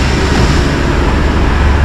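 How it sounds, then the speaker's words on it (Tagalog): A Hyundai H1 with a G4KG engine and automatic transmission, 365,453 km and a suspected blown head gasket, idles with a loud, steady broadband rumble and hiss close by, without talk. "naka-start po yung makina."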